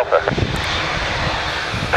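TUI Boeing Dreamliner jet departing, a steady broad engine roar with a radio voice talking over it briefly at the start and end.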